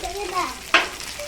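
Chicken frying in a pan for a kaul fry dish, a close sizzle with a sharp stirring scrape in the middle, over faint background voices.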